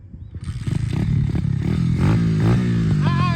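A CFMOTO ZForce UTV driving up nearby, its engine rising into a loud, steady revving roar with some rattling clatter.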